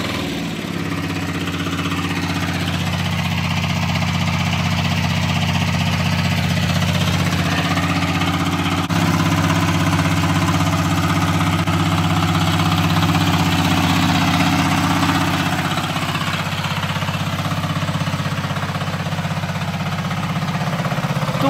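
Garden tiller engine working heavy clay soil runs steadily and loudly nearby, a constant mid-pitched idle-like drone with vibration and no talking throughout.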